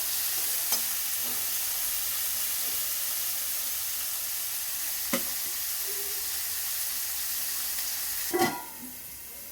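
Ingredients frying in oil in a pot for mushroom biryani, a steady moderate sizzle throughout with three scattered spatula clinks, the last a brief scraping rattle.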